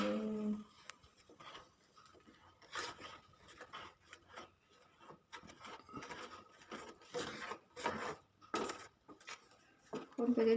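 Repeated scraping and rubbing of a utensil against a pan while stirring a Thai coconut-milk pudding over low heat, in irregular short strokes at close range, with no talking.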